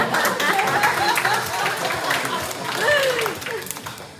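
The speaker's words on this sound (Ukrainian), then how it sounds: "Ваші оплески за імпровізацію." Audience applause at a humorous graduation awards ceremony, steady clapping from the crowd with some voices and a rising exclamation heard over it.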